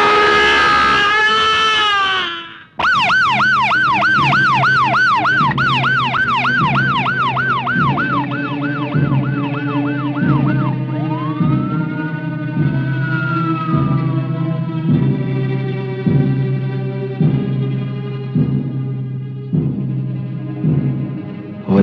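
A loud ambulance siren wails in a fast up-and-down pattern, cuts off briefly, then returns as a slower rising and falling wail that gradually fades.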